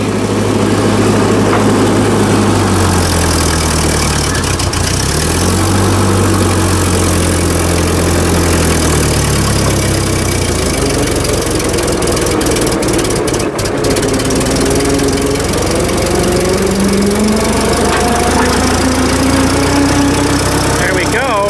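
The engine of a well-worn Ford 2N tractor runs loud and close, its low, uneven rumble rising and falling in pitch throughout.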